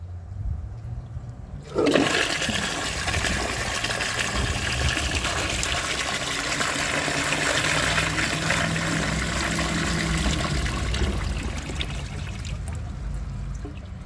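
A 1902 Fleck Bros. Victor toilet flushes with a sudden loud rush of water that keeps gushing steadily for over ten seconds, heard close with no talking.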